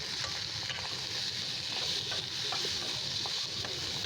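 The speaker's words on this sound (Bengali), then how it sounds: "এবার পেঁয়াজ কুচিটাকে ভালোভাবে ভেজে নিতে হবে।" Chopped onions frying with garlic in a pan, a soft, steady sizzle with faint stirring scrapes, fairly quiet and close, with no talking.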